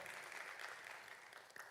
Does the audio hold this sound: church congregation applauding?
yes